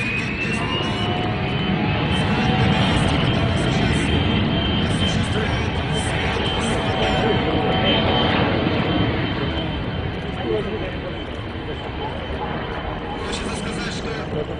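Engines of a Beriev amphibious aircraft roar loudly and steadily, a continuous close drone with a faint high whine running under it throughout, while a voice talks over the sound.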